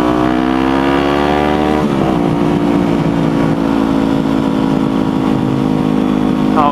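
Motorcycle engine on an open road, dropping from fourth to third gear: a steady hum whose pitch climbs, then cuts and resettles lower near the two-second mark before running on at a loud, continuous level.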